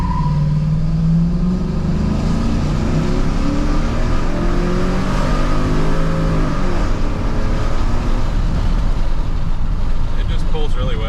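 An NBS Stepside pickup truck pulls away from a complete stop, its engine note climbing steadily through first gear and into a shift to second, loud and continuous from inside the cab.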